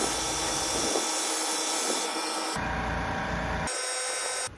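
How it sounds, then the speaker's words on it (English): Sandpaper rubs steadily across a car headlight lens, producing a continuous close, loud abrasive scratch that shifts tone as the strokes change. "So we go ahead and we sand it evenly."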